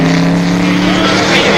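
A Porsche race car roaring past during the 1970 Sebring 12 Hours endurance race, a loud, close engine drone filling the moment with a steady rasp and slight rise near the end.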